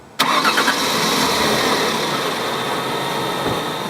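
A car engine cranks and catches after a jump start, firing up abruptly and settling into a loud, steady idle close by, with no talking.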